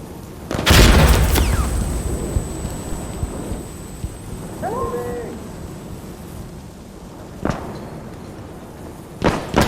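A frag grenade goes off in the video game Insurgency Sandstorm as a single sharp, loud blast near the start, followed by quieter ambient game sound, a whistling tone, a few distant thuds and a second bang at the end.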